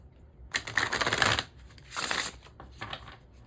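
A deck of oracle cards is shuffled in three quick bursts of crisp riffling, close by, with short pauses between them.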